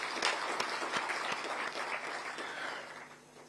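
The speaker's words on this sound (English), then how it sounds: "join our hands and clap for really this great achievement" An audience at a Kenyan public celebration applauds steadily for a few seconds, a dense patter of hands that fades toward the end.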